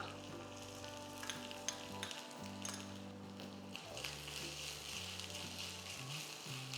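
Sliced shallots, dried red chili and grated coconut sizzle steadily in hot oil with mustard seeds in a pan, a continuous close frying hiss under a low background hum, with no voices.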